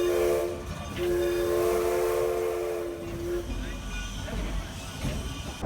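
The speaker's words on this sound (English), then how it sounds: "except when the steam train whistle blows" A steam train whistle sounds at Rockaway Beach, Oregon, a single sustained tone of about two and a half seconds over hissing background noise, followed by a softer rumble as a voice talks over it.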